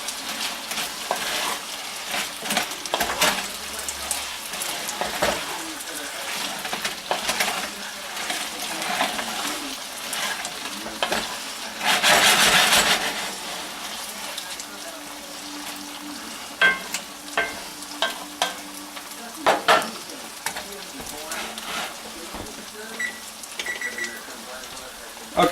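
Potatoes, onion and sausage frying in a pan, a continuous close sizzle broken by scraping and clattering as the pieces are turned, with a louder hissing burst partway through and a voice talking at times.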